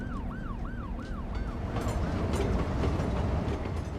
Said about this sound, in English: Love the sound of that train coming down.